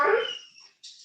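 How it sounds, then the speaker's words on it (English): A dog gives a short whimpering bark up close, a bright strained yelp that trails off into a quieter whine, then a faint breathy noise at the end. "That's the dog."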